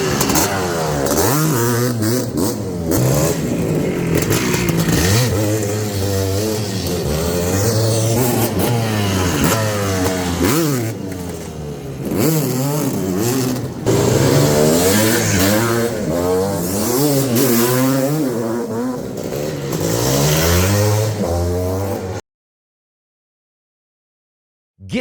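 A motorcycle engine revs hard and loud, close by, in repeated rising and falling bursts of throttle over a clattering idle. It goes on for about twenty seconds, then cuts to silence.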